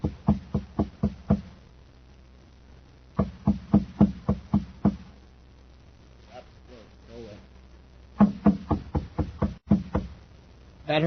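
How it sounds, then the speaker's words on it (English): Someone raps on the shabby wooden door of a machine shop on Mars, sharp loud knocks in three bursts of about six quick blows each, with a brief spoken murmur in the gap between them. "He knocks at the door."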